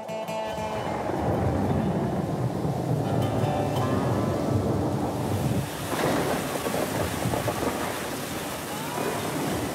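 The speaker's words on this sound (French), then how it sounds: "Le soir, l'orage menace." A mountain thunderstorm with heavy rain roars continuously, dense pouring rain mixed with low rumbling thunder and wind, loud and enveloping with no voices.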